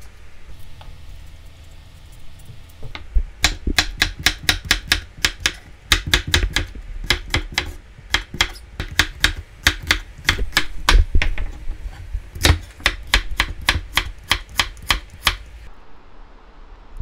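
A knife chops a cucumber on a cutting board in quick, sharp, rhythmic taps, close and crisp, coming in bursts with brief pauses over a faint background hum.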